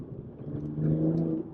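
A modified BMW M235i with a manual transmission pulls under acceleration, heard as a quiet, steady engine drone whose low harmonics climb slightly in pitch over a second and a half with no talking.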